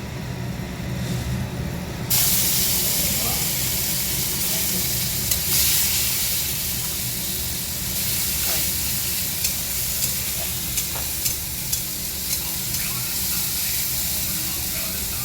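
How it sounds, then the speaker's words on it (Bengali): Nigella seeds, dried chilli and bay leaf hit hot oil with a loud, steady sizzle and hiss, broken by small pops and crackles, with faint talk in the background. "সম্বাদ দেবো, ওর জন্য কালো জিরা, শুকনো লঙ্কা আর তেজপাতা দিয়ে দিয়েছি"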